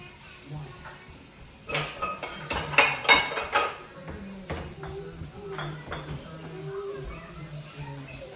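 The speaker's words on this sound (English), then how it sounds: "I'm done with washing the dishes" Dishes are washed by hand at a home sink: pots, plates and cutlery clink and clatter close by in irregular bursts, with a louder run of knocks in the middle, while a voice talks faintly in the background.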